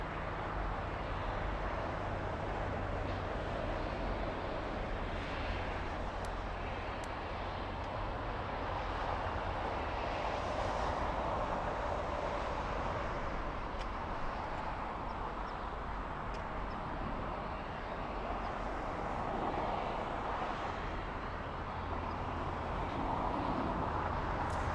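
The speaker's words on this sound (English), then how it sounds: "we have United Airlines 1663 flying in from Chicago" A United Airlines jet arriving from Chicago lands at LAX. A faint, distant broadband roar swells and fades steadily with no talk.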